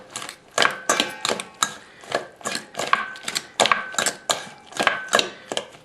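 Vegetables tossed together with a sauce dressing in a bowl, giving a steady series of about a dozen quick, evenly spaced clattering strokes, close and moderately loud, with no talking.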